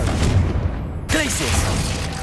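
A Confringo fire spell in Hogwarts Legacy bursts with a sudden booming blast partway through. It cuts into an already loud, rumbling mix of battle noise and rings out briefly afterward.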